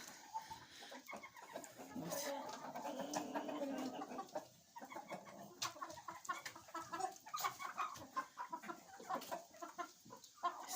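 Hens in a coop cluck and chatter steadily, a dense overlapping flock sound close by with occasional louder squawks.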